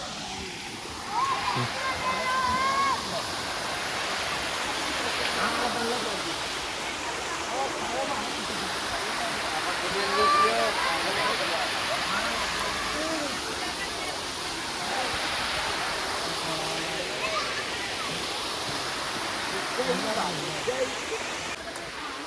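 Water pours over a dam near Junagadh during the Girnar parikrama, a continuous broad rushing roar close by, with someone talking over it throughout.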